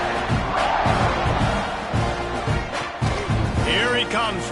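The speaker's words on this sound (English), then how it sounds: "this crowd is buzzing after that last score" Stadium crowd at a Texas A&M vs Iowa college football game, buzzing steadily after a touchdown, a dense roar with scattered shouts and whoops throughout, with an announcer's voice faintly under the noise.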